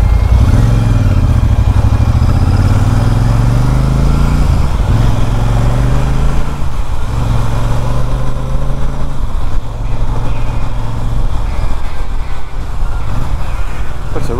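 Royal Enfield Super Meteor 650 twin-cylinder motorcycle being ridden, a loud continuous engine drone rising and falling through gear changes, heavy wind noise, with a rider talking at times.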